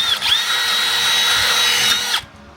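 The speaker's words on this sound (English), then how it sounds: "And you only have to drill through the bottom." A power drill with a 3/8 bit whines at a high steady pitch for about two seconds, biting through the metal of a 2006 Toyota Tundra frame, then winds down and stops abruptly.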